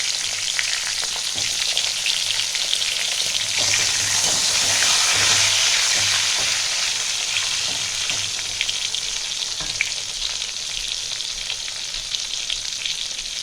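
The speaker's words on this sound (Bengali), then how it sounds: "এখানে আমি একটা বড় বেগুন রেখেছিলাম, কেটে রেখেছিলাম, সেই বেগুনটা ভাজবো।" Cut brinjal frying in oil with a little black cumin in a pan for a Bengali begun ilish jhol, a loud, steady hissing sizzle running throughout with occasional stirring underneath.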